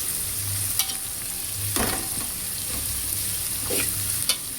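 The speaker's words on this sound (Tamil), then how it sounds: "நல்லா வெங்காயம் வதங்கணும்." Sliced onions sautéing in oil for paneer biryani make a steady close sizzle, broken by several distinct spatula scrapes and stirring strokes; no voices are heard.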